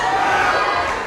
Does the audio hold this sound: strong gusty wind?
no